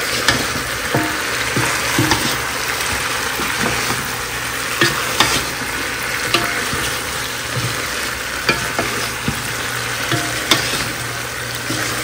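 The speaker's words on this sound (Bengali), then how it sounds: "এবার যাবে মাংস। আমি হালকাভাবে নেড়ে নিব।" Chicken meat is stirred and fried in a pan for a Bangladeshi chicken roast, with a steady sizzle and occasional scraping clinks of the stirring utensil.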